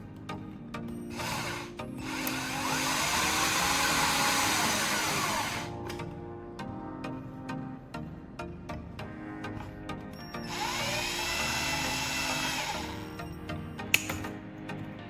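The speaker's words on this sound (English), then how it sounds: "Alright, time to turn on the drill. Watch how the wires start spinning and twisting into one solid strand." A power drill whirs in two sustained runs, rising and falling in pitch, as it spins and twists wires into one strand, with rubbing, scraping noises between runs and a sharp click near the end.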